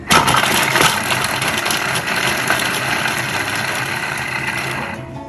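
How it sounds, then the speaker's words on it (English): A food processor chopping whole ginger pieces, a loud, close motor whir with rattling blades that runs steadily for several seconds before cutting off at the end; nobody speaks. "I did not cut them into pieces, so I let the machine do that for me"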